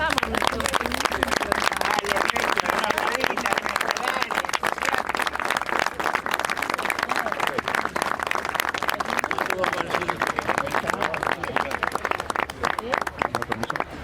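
A crowd applauds at a memorial ceremony honouring former political prisoners, a long sustained wash of clapping at even loudness, with voices mixed in underneath.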